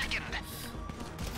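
Gunfire in the GTA Online casino heist video game, a dense burst of shots and crashing impacts running continuously at close range, mixed with clatter and game noise while voices call out over it.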